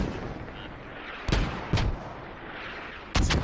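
Mortar fire in the military video game Squad: a sequence of sharp, punchy blasts, two close together early on and another quick pair at the end, over a low background rumble.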